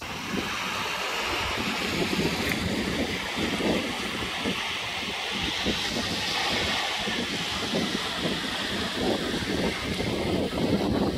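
Wind and surf at Hazard Beach in Tasmania form a steady, broad roar with gusty buffeting against the microphone, continuous and fairly loud throughout with no voices.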